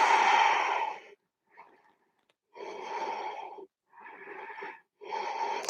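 Deep, breathy exhales and inhales during a yoga flow sequence come in slow, separate waves, each about a second long with short pauses between them, heard close and fairly soft with no talking.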